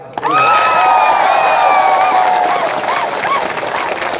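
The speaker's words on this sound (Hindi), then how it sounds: "बुरे भोजन के लिए ताली मारो" A large crowd at a mass political rally in Hrishyamukh claps and cheers loudly and continuously, with shouts and whistle-like cries rising over the dense wash of applause.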